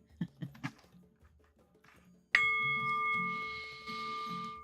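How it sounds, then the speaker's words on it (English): A single bell struck during a meditation reading rings out loud and clear, its sustained tone slowly decaying over several seconds after a few soft earlier sounds. "By the sound of the bell,"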